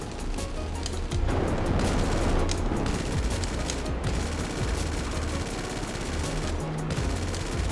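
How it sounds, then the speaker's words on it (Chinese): Rapid gunfire from an LF-22 Starling jet in GTA 5, a dense, continuous, loud rattling stream of shots with heavy low rumble throughout. "射击像这样"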